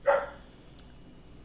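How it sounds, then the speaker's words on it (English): One brief dog bark in a home during a podcast call, moderately loud and close, followed by quiet room noise. "Sorry about my dog."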